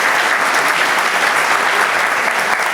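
An audience at a talk on Albany politics breaking into loud, dense, continuous applause, many hands clapping evenly without pause, close and full.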